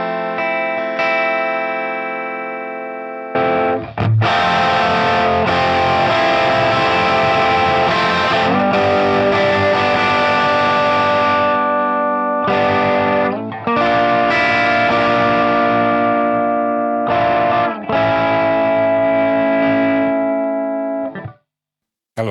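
An electric guitar plays through pedal distortion into a clean, high-headroom amp model on a Fractal FM9, sustained chords ringing thick and saturated with short breaks between phrases, with no talking.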